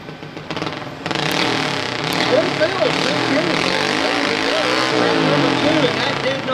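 A garden tractor engine strains under load during a tractor pull, a loud continuous roar with wavering pitch that holds steady throughout, while an announcer talks over it.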